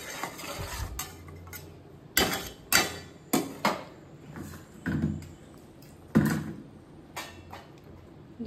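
Potatoes dropped into a cooking pot for a meat curry, a series of distinct knocks and clatters of pieces hitting the metal pan at irregular intervals, close by, with light stirring and cookware noise between them and no talking.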